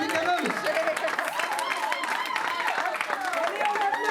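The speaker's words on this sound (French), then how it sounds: "On l'applaudit quand même!" Wedding guests in France applauding amid lively chatter and voices, clapping mixed under prominent talking and shouting throughout.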